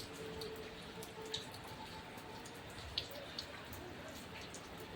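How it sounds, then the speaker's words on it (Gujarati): Light rain falls steadily with a soft, faint hiss, and scattered louder drips land on nearby surfaces. "અત્યારે પાછો વરસાદ ચાલુ થઈ ગયો છે."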